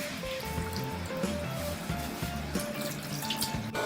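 A kitchen tap runs in a steady rush as hands are washed with soap and water before cooking. The water is close and continuous, with a few faint tonal sounds in the background.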